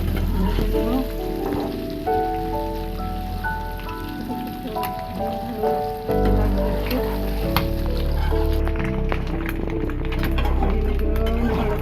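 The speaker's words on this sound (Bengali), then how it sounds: "ভিতরে ভেজে নিব ভালো করে" Quail eggs frying in hot oil give a steady, dense sizzle throughout, with a deeper shift partway through. Tonal background sounds and faint voices sit underneath.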